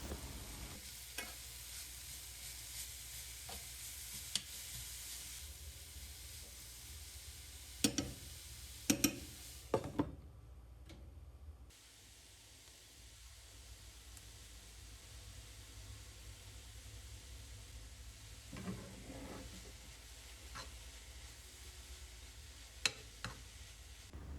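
Salted pirozhki filling stewing in a covered pan over low heat gives a soft, steady sizzle, punctuated by a few sharp clicks and knocks of a lid or utensil.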